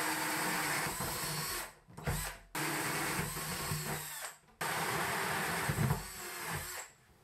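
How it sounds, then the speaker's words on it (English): A power drill whirs steadily, pausing briefly twice as it bores holes through a plastic box, with the motor pitch wavering under load. "I'm going to drill more holes with the same bit because I need some breathing holes"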